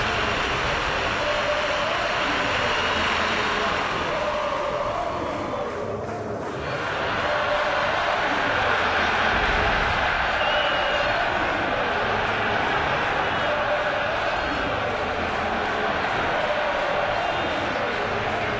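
A stadium crowd in the mobile soccer game Soccer Revolution 2018 roars continuously, a loud, dense wash of cheering that dips briefly then surges again, with no clear talk over it.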